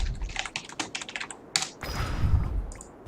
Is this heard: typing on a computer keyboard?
yes